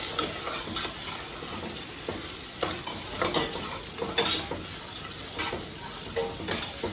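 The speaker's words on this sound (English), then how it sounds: "And then we'll stir it up." Food seasoned with pepper sautes in a pan, a steady hiss of frying broken by repeated scraping, clattering stirring strokes throughout, close and fairly loud, with no speech.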